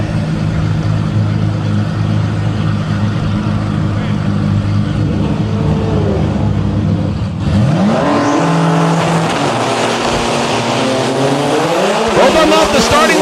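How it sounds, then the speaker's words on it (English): Drag race cars, including a dark red GTR, idle loudly at the starting line, then launch with a surging engine roar and rising revs. An announcer talks over the engine noise. "Off the starting line clean and green"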